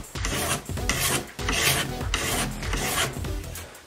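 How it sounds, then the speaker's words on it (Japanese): A metal file rasps along the edge of an alpine ski in a tuning shop, repeated rough scraping strokes in a steady back-and-forth rhythm, close and loud with no talking. "そのいらなくなったファイルを使ってちょっと削っていきます。"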